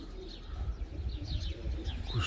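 Pigeons in a loft housing young birds give soft, low coos against gusty wind noise, with faint chirps above.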